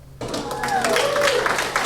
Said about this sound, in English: A round of applause, it seems, is in order.